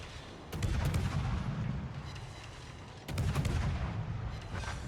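Battleship guns firing in World of Warships, with the KGV trading shots: two heavy booming volleys about two and a half seconds apart, each followed by a rumbling tail, with no talk.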